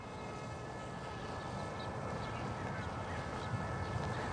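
A model aircraft motor runs at full throttle in a steady, dense, loud whir that holds without pause for a few seconds, with faint sounds from the outdoor surroundings.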